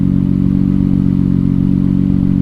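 A Nissan Skyline R32 GT-R engine idling at around 850 RPM, a low, even rumble with a steady pulsing beat, loud and close, with no voices.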